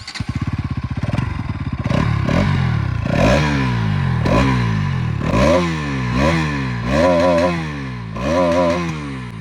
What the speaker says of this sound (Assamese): এইফালে মই তোমালোকক একবাৰ এক্সজষ্ট নোটটো শুনাই দিম।